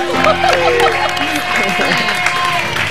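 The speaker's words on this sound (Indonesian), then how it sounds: "Tepuk tangan buat Yuki Kato." Studio audience on an Indonesian TV talk show breaks into applause and cheers, a dense burst of clapping mixed with crowd babble and voices throughout.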